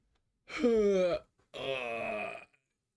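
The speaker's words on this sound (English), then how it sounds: "Yawn, yawn, yawn." A person yawns twice in a row, each a drawn-out breathy, moaning exhale of about a second, close and fairly loud, separated by a short pause.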